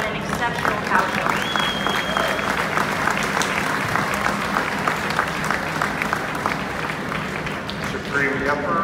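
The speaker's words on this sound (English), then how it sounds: "let's give them a big round of applause on an exceptional cow show" A big crowd at the 2018 Iowa State Fair dairy cow show claps loudly and steadily the whole time, a dense, even wash of hands with a few voices mixed in.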